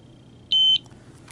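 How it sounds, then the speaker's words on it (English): A Riken FI8000 gas analyzer gives a single short, clean electronic beep during air calibration, clear against a quiet room. "The unit will flash red and beep"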